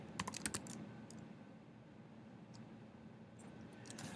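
Quick bursts of key presses on a computer keyboard while a passphrase is entered, clicking clusters near the start and again near the end with a quiet pause between, close and fairly soft.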